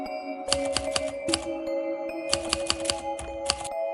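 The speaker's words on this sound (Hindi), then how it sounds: "टाइपराइटर रात को खुद चालू हो जाता और अजीब अजीब आवाजें निकालता।" A typewriter clatters out short bursts of sharp key strikes, pauses, then types another quick run over a steady tonal hum. No one speaks.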